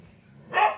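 A single dog bark bursts out loud and close just past the halfway point, after a stretch of quiet low background hum.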